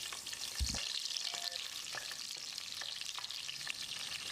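Cinnamon pieces, cloves, cardamom and slit green chillies fry in oil in a pan for moong dal pulao, a steady close sizzle broken by soft scraping stirs.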